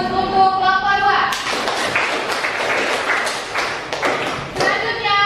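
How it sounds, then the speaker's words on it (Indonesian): Classroom applause for group 2: a voice speaks briefly, then a burst of clapping from many pupils breaks out and carries on steadily to the end. "Beri aplaus untuk kelompok 2."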